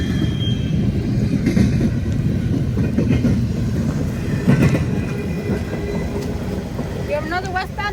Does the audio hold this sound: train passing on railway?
yes